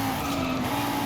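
A race car in Forza Horizon 5 tears through city streets in Mexico at high speed, its engine a steady, loud whine with a sustained tone and a faint tire hiss throughout.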